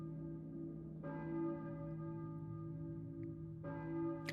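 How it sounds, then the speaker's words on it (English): Church bell in the Silent Hill PS1 video game tolls twice, each strike ringing out with a long, humming decay, faint and distant over a low ambient drone. "I hear a church bell maybe. Who is ringing the bell?"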